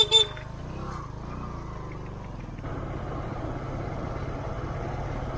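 Steady motor traffic on a mountain road in Himachal, near Khajjiar, with vehicles stalled in a jam; a continuous engine rumble runs throughout, with a brief higher sound near the start, but individual horn blasts are not clearly picked out.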